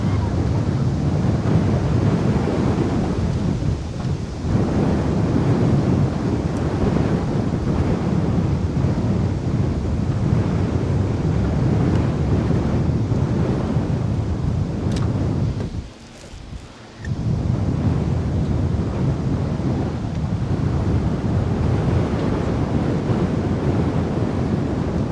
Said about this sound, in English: This wind is pushing straight down on me.